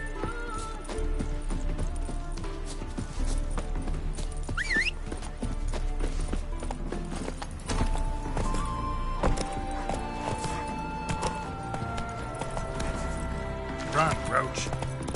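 Roach the horse galloping in a video game, a steady rhythmic clip-clop of hooves throughout, with a brief neigh and game music and ambience layered over the hoofbeats.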